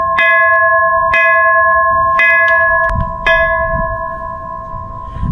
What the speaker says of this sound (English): There's a school bell here.